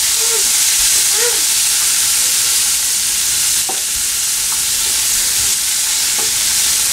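Fresh green peas sautéing in a pan with garlic for peas pulao, a loud continuous hiss of frying with occasional stirring knocks and scrapes, no speech.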